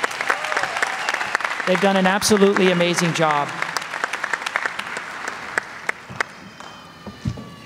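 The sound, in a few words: audience applause at a graduation ceremony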